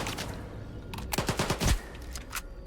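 Automatic gunfire in the video game S.T.A.L.K.E.R. 2 rattles in a short burst of sharp shots, fairly faint and muffled, with a few scattered single shots before and after.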